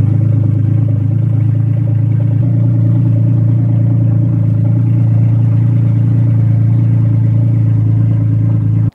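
A Porsche 981 GT4 engine runs with no exhaust fitted, a loud, steady low droning rumble with a rough clattering edge, close up and unbroken throughout with no talking.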